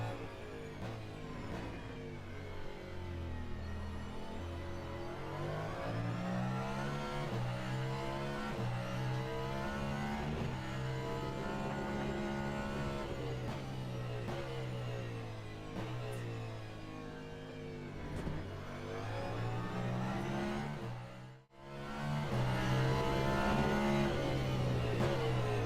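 Cadillac hypercar engine in the racing game Le Mans Ultimate, roaring loud and close as it accelerates, its pitch climbing and dropping through repeated gear changes, with a brief cut near the end before it pulls hard again.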